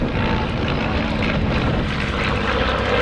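An L-17 light aircraft in United States Army colours flying at a flying display at Little Gransden; a steady, loud propeller engine drone holds throughout without pause.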